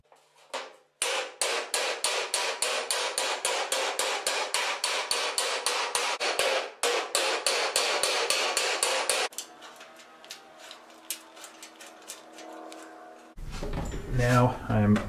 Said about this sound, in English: I'm going to go over it with a hammer and tap out all the extra creases